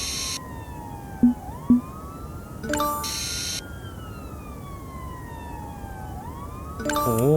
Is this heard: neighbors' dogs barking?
no